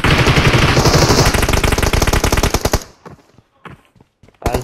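Rapid automatic gunfire in PUBG Mobile at Paradise Resort, a loud dense burst of close shots that stops abruptly, then a few scattered single cracks and another burst at the end.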